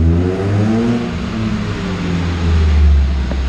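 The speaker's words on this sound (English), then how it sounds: "no load on the dyno, and it kind of spools up like it's a big V8 with a bunch of torque" A car engine, said to have about 120 horsepower, revs in third gear on a chassis dyno with no load, spooling up quickly with a loud, deep rising drone and a strong swell near the end.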